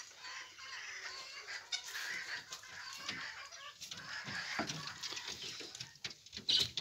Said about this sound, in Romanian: Mica mea fermă de găini, pitice